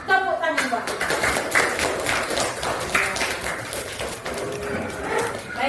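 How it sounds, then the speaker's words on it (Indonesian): Students in a classroom clap together during an Indonesian lesson, a dense patter of hand claps running throughout, mixed with children's voices and chatter. "Tepuk tangan buat kita."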